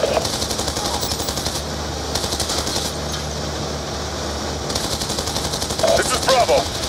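Sustained automatic gunfire on a convoy in Call of Duty: Black Ops 2, loud rapid bursts rattling over a low vehicle rumble, with a radio voice speaking over the fire.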